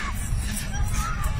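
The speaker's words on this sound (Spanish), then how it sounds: "Hay desesperación, todo el mundo gritando." A crowd of people shouting in desperation amid fire in Bolivia, a dense, steady babble of distant overlapping cries and yells.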